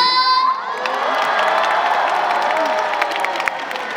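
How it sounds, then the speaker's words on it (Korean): An outdoor stadium concert crowd at a superhero-themed show cheers and shouts loudly, with high-pitched screams and scattered clapping in a dense, sustained roar after a brief tone at the start. "다 같이 박수와 함성 질러볼까요? 박수와 함성!"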